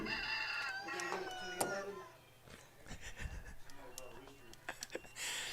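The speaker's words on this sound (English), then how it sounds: "We got a rooster loose in the press box up here." A rooster crow, apparently a phone ringtone, sounds inside a press box at a high school football playoff game. It is fairly close and brief, followed by muffled talk and crowd noise.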